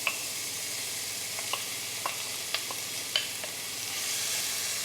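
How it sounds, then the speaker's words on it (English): Onion and garlic sautéing in ghee for a mushroom sauce, a faint steady sizzle with a handful of light clicks and taps spaced through it, quiet and close. "So I'm going to put some ghee here. Let's saute some onion"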